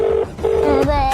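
Telephone keypad tones beep in a quick run, a couple of short steady tones followed by another, as someone dials the 108 ambulance emergency line after a road accident, close and clear with no talking.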